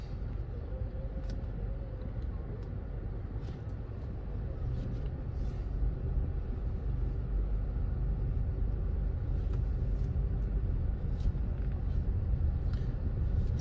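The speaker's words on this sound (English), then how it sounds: "So these vehicles on the left, they are going to be parked." Steady traffic rumble from cars driving by in the Bay West area of Montego Bay, Jamaica. It is a continuous low roar with no single car standing out and no gaps.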